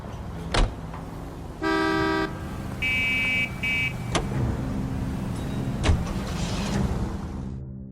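A car drives in the video game L.A. Noire, with a steady engine rumble and several short, loud horn toots between sharp clunks.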